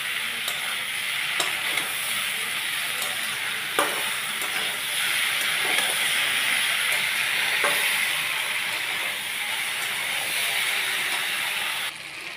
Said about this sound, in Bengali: এবার আমি এই টমেটোগুলো এর মধ্যে দিয়ে দেবো। সব শুদ্ধ আমি মিডিয়াম আছে এগুলোকে ভালো করে নাড়ব, যাতে ভেন্ডিগুলো ভেঙে না যায়।